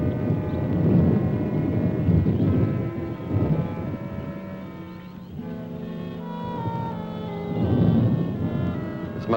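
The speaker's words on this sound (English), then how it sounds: "Just thunder." Deep rumbling thunder in a 1950s monster film, a broad low roll swelling and fading with a wind-like wash throughout, loud and sustained with no voices.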